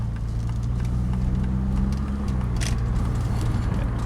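A Saab car with new spark plugs accelerates, a steady close low engine hum and road rumble heard from inside, rising gently with no voices.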